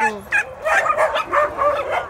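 Dogs in an animal shelter yip and bark in quick, high overlapping bursts, close and fairly loud, with whimpering tones mixed in.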